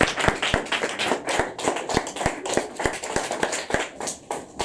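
A church congregation claps in unison to acclaim the Lord, a steady rhythmic beat of sharp, loud claps at roughly three per second, with no voices over it.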